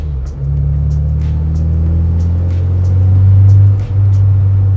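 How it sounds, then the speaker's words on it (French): Mazda MX-5 exhaust droning and resonating from inside the small sports car while driving, a steady low hum that swells slightly as it accelerates, with no talk. "on entend plus encore l'échappement côté conducteur que passager"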